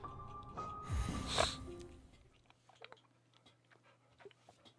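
A dog snorts and sniffs up close in a burst of breathy, wheezing snuffles, followed by quieter scattered sniffs and small mouth sounds in an otherwise quiet room.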